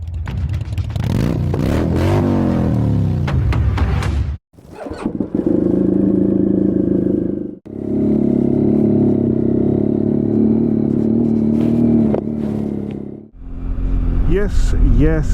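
Motorcycle ridden on open roads, with a loud, steady engine note rising and falling through gear changes and wind rush, broken by brief quiet gaps between passages.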